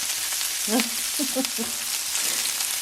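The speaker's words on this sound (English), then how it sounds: "When you fry this stuff, it's the burnt edges are so good on onions." Onions fry on a high burner for a turkey soup with angel hair pasta, giving a steady close sizzle with a few brief crackling pops and no talk.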